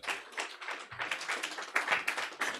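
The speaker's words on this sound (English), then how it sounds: "So I think they deserve a round of applause." Graduation ceremony audience applauding in a steady patter of claps, moderately loud and continuous.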